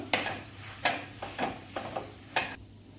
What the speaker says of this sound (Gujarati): આવી રીતે આપણે મિક્સ કરી લઈશું બધો મસાલો